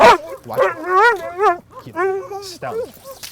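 A working dog lets out a short run of barks and yelps, loud and close, with a whining rise and fall between them.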